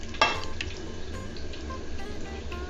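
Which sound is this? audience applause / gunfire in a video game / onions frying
onions frying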